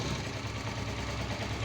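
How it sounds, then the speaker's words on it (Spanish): A motorcycle engine idles steadily nearby, a low even rumble with a regular pulsing beat, and no voices over it. "Vamos a poner marcha la"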